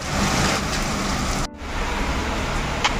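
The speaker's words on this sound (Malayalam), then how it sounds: "ഇവിടെ ഇന്ന് പെയ്ത മഴയുടെ ശക്തിയാണ് നല്ല ശക്തിക്ക് പെയ്യുക" Heavy rain pours steadily and densely, a loud continuous wash with a brief dip partway through.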